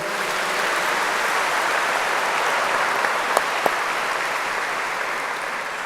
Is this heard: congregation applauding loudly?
yes